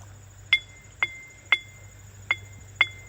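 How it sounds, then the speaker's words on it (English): A glass bottle carried in a pocket clinks against something as the wearer climbs, giving five sharp, evenly spaced clinks about half a second apart over a low steady hum. "The glass bottle's in my pocket, man."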